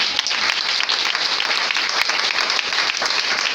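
Church congregation applauding in a dense, steady wash of clapping with no pauses, loud and close throughout.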